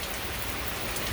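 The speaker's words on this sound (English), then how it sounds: "If rain continued at this rate for a while, we'd definitely see some flooding" Heavy rain falls steadily across southeast Virginia, a dense, even hiss of drops on surfaces with no pauses.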